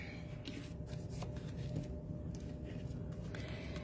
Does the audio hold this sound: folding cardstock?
yes